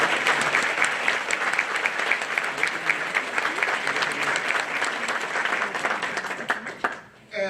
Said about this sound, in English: could we just one more time give a big round of applause to all our